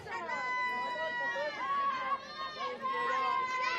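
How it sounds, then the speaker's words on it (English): A subdued crowd at a women's club softball grand final, with steady background chatter and overlapping voices from the stands and dugout, murmuring on and on with no cheers. "Bit of a subdued crowd out there."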